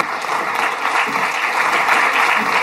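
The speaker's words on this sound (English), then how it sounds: "So a big round of applause." Thick, continuous applause from a large conference audience, steady and fairly loud across the whole stretch, with a faint murmur of voices beneath the clapping.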